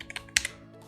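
Short burst of typing on a computer keyboard: a few quick, light key clicks close by, ending on one slightly louder tap, with no talking.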